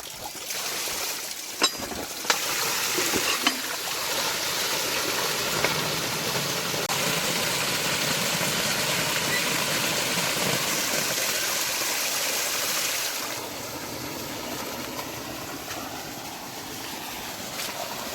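Clean water pouring steadily from the main outlet of a sand filter after cleaning, a continuous close rushing wash that eases and thins slightly toward the end, with no voices.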